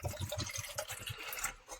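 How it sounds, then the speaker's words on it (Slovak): Water pours into a ready-meal pasta carbonara pouch outdoors in the woods, a soft continuous gurgling trickle with small rhythmic pulses, quiet and close, alone without talk. "Tak si tu nalejem vodu."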